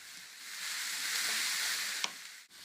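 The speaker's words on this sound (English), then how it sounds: "Give it all a good stir and allow the veg to fry off" Courgettes and mushrooms fry in a hot pan with a steady, close sizzle, with a brief scrape of stirring near the end.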